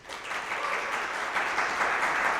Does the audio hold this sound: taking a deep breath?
no